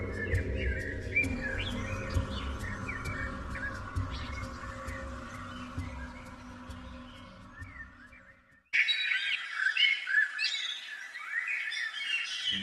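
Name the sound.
bird chirping in a forest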